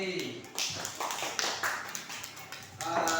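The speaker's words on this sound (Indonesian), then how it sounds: "Tepuk tangan untuk kelompok D." Classroom clapping for a student presentation group, a burst of claps from pupils at moderate distance, uneven and ragged, with voices mixed in.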